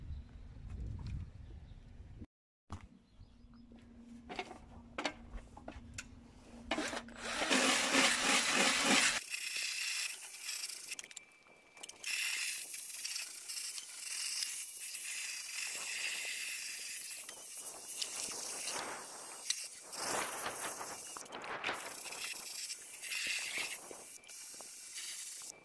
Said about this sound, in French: moi je vais essayer avec ma brosse et puis d'enlever au moins tout ce qui part